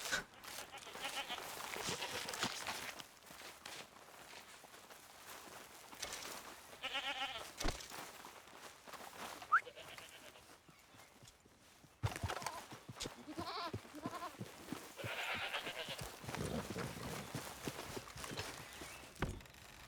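Several goats in Red Dead Redemption 2 bleat repeatedly, wavering calls overlapping with hoof clatter and shuffling movement, moderately loud and close.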